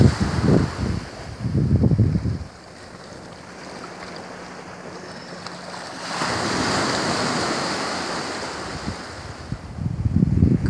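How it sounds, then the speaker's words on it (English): Waves washing in and wind buffeting the microphone at the end of a beach in Spain, with surges of surf rising and falling over a constant rushing roar, close and fairly loud. "We're down at the end of the beach now."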